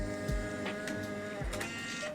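A Polaroid Mint pocket photo printer printing a photo, giving a steady mechanical whir with a few soft clicks and thumps, close and alone.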